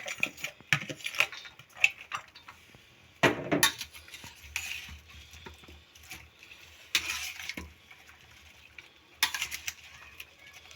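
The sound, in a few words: mixing spices into vegetables in a bowl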